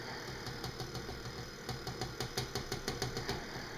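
A KitchenAid stand mixer kneads Chicago-style pizza dough, its motor running with a steady hum and a rhythmic knocking thump as the dough slaps around the bowl, heard alone at moderate distance.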